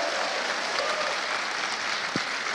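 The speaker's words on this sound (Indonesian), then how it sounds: "Tepuk tangan yang meriah" An audience at a corporate welcome event bursts into lively, sustained applause, a dense wash of clapping heard from within the hall.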